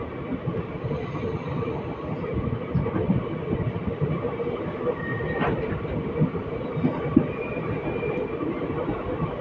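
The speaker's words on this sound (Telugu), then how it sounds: "Kakatiya intercity express వ్యాప్ 7తో." The Kakatiya Intercity Express, hauled by a WAP-7 electric locomotive near Hyderabad, rumbles past with steady rolling wheel noise and faint rail clatter. It is loud and close, with no talk.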